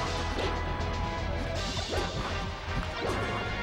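Sharp, crunching up smash attack hits from a Super Smash Bros. tournament match, several heavy impacts landing in quick succession over dense, busy game noise.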